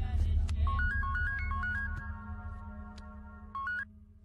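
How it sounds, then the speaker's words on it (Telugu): A phone call being placed to a senior police official in a tense Telugu action film scene, with an electronic ringback tone repeating in short bursts over a low background music drone. "డీజీపీకి ఫోన్ చేయి."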